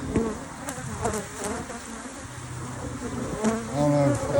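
A feisty, healthy honeybee colony buzzing around an opened hive in summer heat, a steady close droning hum with individual bees whining past in brief rising tones.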